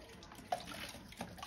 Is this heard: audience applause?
no